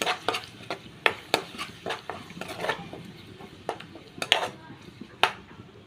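Masala paste for a fish curry frying in a pan while a utensil scrapes and clinks against the metal in irregular bursts, the sizzle itself faint underneath.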